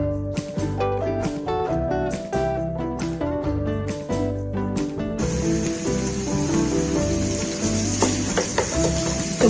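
Meat for gobhi gosht frying in about two tablespoons of oil with onion, tomato, garlic and ginger, a steady sizzling hiss that grows stronger in the second half beneath loud background music.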